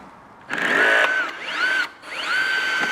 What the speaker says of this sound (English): Use power drivers for everything.